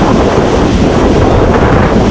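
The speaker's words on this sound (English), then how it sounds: "There's another gust right here." Hurricane Katrina wind gust roaring loudly and continuously, a dense steady rush with no break and no voices.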